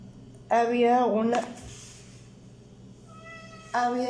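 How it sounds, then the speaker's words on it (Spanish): A house cat meows indoors wanting to be let outside, two drawn-out wavering calls close by, the first long and loud, the second starting near the end, with a quiet pause between. "La Michi se quiere salir"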